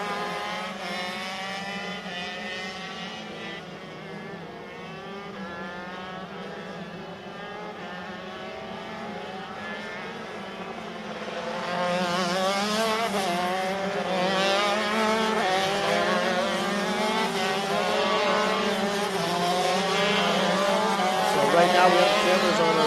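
125cc ROK Shifter Limited racing karts lapping the Sonoma track during a race, engines buzzing and rising and falling in pitch as they pass, growing louder midway as more karts come near.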